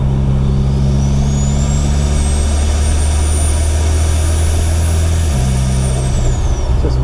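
Mitsubishi Evo X fitted with a new turbo, driving along with a loud, sustained turbo whistle that rises, holds high and then drops, over a steady engine drone with a gear-like shift in the low rumble partway through.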